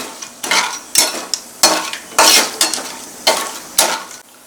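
Whole spices such as bay leaves, cinnamon, star anise and cloves are stirred in hot oil for soya chunk biryani, giving a close sizzle broken by repeated scraping strokes of a spoon against the pot, heard alone.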